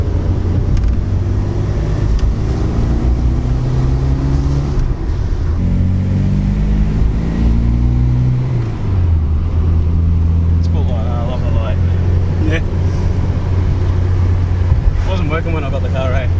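A Mitsubishi Sigma Turbo engine with boost on revs loudly and close, climbing in pitch in repeated pulls before dropping back to a rough, heavy idle, with voices faintly audible.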